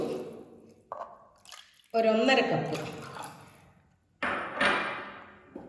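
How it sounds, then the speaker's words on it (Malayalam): Water pours from a measuring cup into a small pressure cooker in a home kitchen while rasam is being made, heard as two close splashing bursts between stretches of a woman's speech. "2 കപ്പ് വെള്ളം ഒഴിക്കേണ്ടി വരും"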